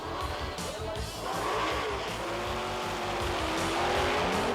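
A drag racing car's engine roars loud and close throughout, a dense, rough drone that swells slightly toward the end, with hints of tire squeal.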